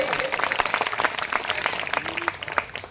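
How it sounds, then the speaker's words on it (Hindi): Audience applause at a religious storytelling event staging a tableau of the Round Table Conference, dense clapping filling the space steadily for about three seconds, with some crowd voices mixed in. "एक बार बाबा साहब की बुद्धिमानी के लिए ताली बजा करके तो स्वागत तो कर ही सकते हैं"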